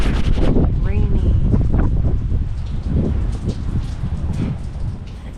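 Steady rain falls outdoors during a wet day of work on an Acura TSX, a continuous broadband hiss with wind noise on the microphone, and a person talks over it near the start.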